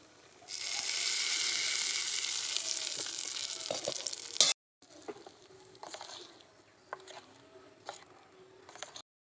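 Curry leaves fry in hot oil for sambar, a sudden bright crackling sizzle that fades after a few seconds, followed by softer scattered sizzling and light clinks.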